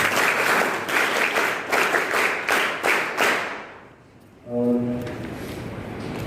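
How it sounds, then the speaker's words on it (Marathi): An audience applauds to welcome a guest speaker at a school exam-guidance lecture, dense clapping for about four seconds before fading, followed by a brief tonal hum or feedback near the end. "आपण सर्वांनी टाळ्या वाजवून सरांचं सहर्ष स्वागत करूया"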